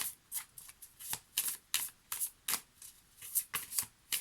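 Tarot cards are shuffled in a quick, even rhythm of crisp riffling bursts, about a dozen in a row, close by and moderately soft, with no voices.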